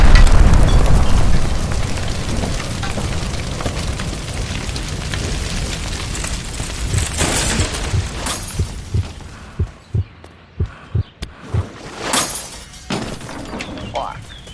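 A gas line shot and bursting into an explosion during a shootout in L.A. Noire, a loud shattering blast followed by a run of sharp, evenly spaced bangs, with faint voices beneath.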